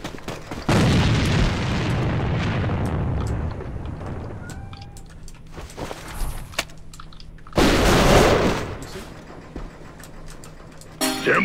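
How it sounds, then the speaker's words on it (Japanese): Grenade explosions in the AVA shooter game: two loud, booming blasts several seconds apart, each with a long rumbling decay, amid scattered gunfire and occasional short game voice lines. "手榴弾を使うぞ。"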